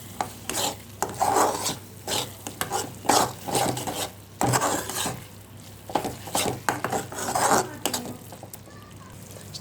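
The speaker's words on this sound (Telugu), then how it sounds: "అంతా కలిసేలాగా ఒకసారి మిక్స్ చేసుకుందాం" A spoon stirs a thick bottle gourd and carrot halwa with ghee, fried cashews and raisins in a pan, scraping and rubbing in repeated close strokes with a faint sizzle underneath and no talk.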